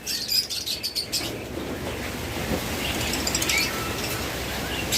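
Pet lovebirds, cockatiels and budgerigars with closed leg rings chirp and tweet in a busy chorus of overlapping calls, moderately close and fairly faint, with no talk.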